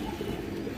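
A pigeon pair coos at a market pen, a brief steady low warbling hum with no voice over it.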